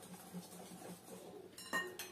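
A spoon clinks and scrapes against a bowl of pie batter in a steady stirring rhythm, with a sharper clatter of metal near the end.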